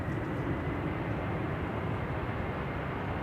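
An Aer Lingus A330-300 with CF6 engines takes off at Manchester Airport, a dense low rumbling roar heard steadily at moderate distance, with no talking.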